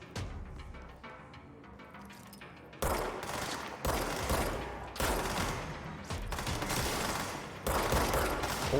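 Heavy gunfire in the action game Control, with dense, repeated broadband bursts that start roughly a third of the way in and continue close and loud to the end, with no talk over them.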